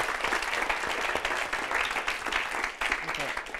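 Meetup audience at a London mobile UX event clapping steadily for nearly four seconds, a dense even patter of many hands.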